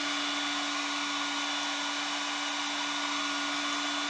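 A DeWalt heat gun blows hot air onto a metal vice part, a constant, dense, loud rushing roar with a steady motor hum beneath, unchanging throughout with no voices.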